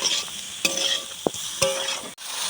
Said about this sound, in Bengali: এইভাবে নেড়ে চিড়ে নিতে হয়